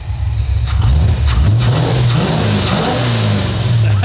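A Holden HQ car engine runs nearby with a rough, throaty rumble, revving up and easing back in uneven surges, loud and steady throughout.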